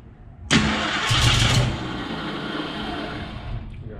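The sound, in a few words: rebuilt Ford 289 engine starting for first time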